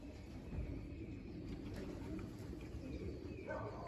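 Racing pigeons coo softly in a loft, their low murmuring calls steady under a constant background hum with faint chirps.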